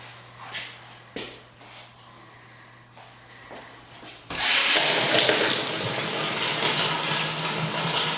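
Water drains from a Sloan flushometer toilet valve into a catch container: a few small knocks and trickles, then a sudden loud, steady rush of water that keeps pouring to the end.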